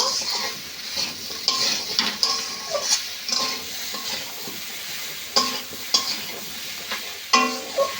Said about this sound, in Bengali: মশলাগুলো দিয়ে বেশ ভালো করে কষে নিয়ে জল দিয়ে দেব